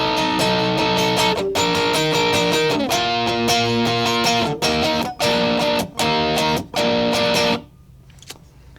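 Distorted electric guitar plays the power-chord riff from a song, a dense, loud pattern with several short choppy breaks before it cuts off near the end, leaving faint hum.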